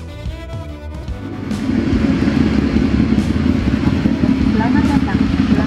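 A big motorcycle engine rumbles close by, a steady deep idle that swells louder after a quieter opening and holds to the end.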